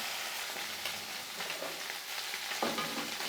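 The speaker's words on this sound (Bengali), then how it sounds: "এক পিঠ ভাজা হয়ে গেলে অপর পিঠটাকে আমি একবারে উল্টে দেব" Small puti fish fry in a pan, a steady moderate sizzle with occasional scraping and a stirring scrape near the end, heard without talk.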